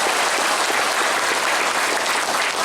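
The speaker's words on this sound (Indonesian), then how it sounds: "Tepuk tangan untuk desa Pordadi." A crowd at a village gathering for Pordadi village gives steady, dense applause, loud and continuous from start to finish.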